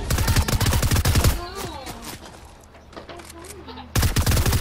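Video game gunfire cracks in rapid bursts at the start and end, with quieter scattered shots and game effects in between, while a player talks over part of it.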